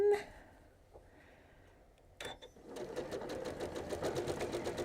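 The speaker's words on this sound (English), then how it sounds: "you won't get bothered too much by the noise of the sewing machine" A sewing machine starts up after a brief pause and runs with a rapid, steady mechanical stitching rhythm, close by.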